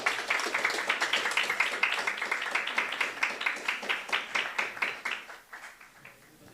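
A round of applause at a Brahmin business-forum chapter meeting in Rohini greets a memento presentation, with many hands clapping in a quick rhythmic patter that holds steady, then thins and fades out over the final seconds.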